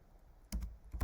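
Two short clusters of keystrokes on a computer keyboard, close and quiet, as text is typed into a software interface, with faint room tone between the bursts and no talking.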